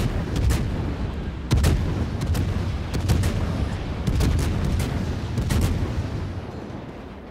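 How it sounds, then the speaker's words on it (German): Naval shell salvos in the warship game World of Warships, a series of heavy booming gun blasts with deep rumbling tails, loud and repeated at irregular intervals over a continuous low roar. "Da hat einiges nochmal an Granaten losgelassen."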